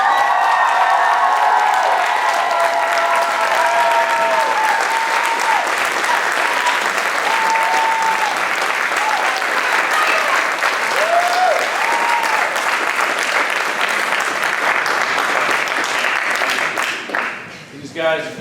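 A crowd at a May showcase gives long, steady applause with some cheering, while amplified music with sustained tones plays underneath; the clapping stays dense and loud before thinning out near the end.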